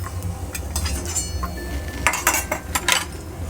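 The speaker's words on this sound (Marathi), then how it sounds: "ड्रायफ्रूट आता काढून घेऊया आपण फ्राय झालेत" Fried dry fruits scraped and lifted out of a pan, giving a run of metallic clinks and scrapes of a spoon against cookware over a low background hum.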